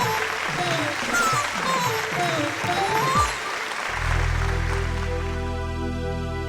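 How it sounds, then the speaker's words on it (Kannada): An audience at a singing reality show stage applauds loudly beneath a voice, and then instrumental music starts up. "ಬನ್ನಿ ಜೋರಾದ ಚಪ್ಪಾಳೆ."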